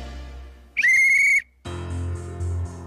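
A person imitates a whistle with a short, loud, high-pitched blast, followed by a lower pulsing tone that wavers steadily.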